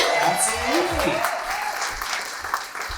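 An audience at a belly dance show claps and cheers for about three seconds, steady dense applause with a few whoops, while a voice talks over it.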